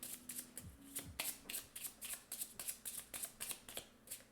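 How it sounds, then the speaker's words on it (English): A deck of Viticulture playing cards is riffled and shuffled over and over at close range, a quick, steady series of crisp fluttering bursts with no talking. "Shuffle, shuffle, shuffle, shuffle,"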